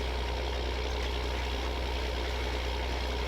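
Steady, fairly loud tractor engine drone from Farming Simulator 19, a 150-horsepower tractor drilling soybeans with a front-mounted attachment, holding a constant low idle-like rumble throughout with no voices.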